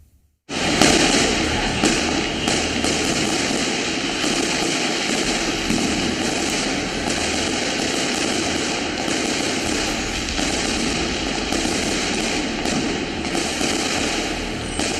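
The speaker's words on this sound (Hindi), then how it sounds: "जमकर हुई आतिशबाजी," Dense, continuous crackling and popping bursts of fireworks in Delhi fill the air without pause, loud and close, with a steady roar of overlapping explosions.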